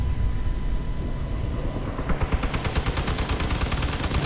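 Rapid automatic gunfire from the vehicle combat game Crossout starts halfway through as a fast, even stream of sharp shots over a steady background rumble.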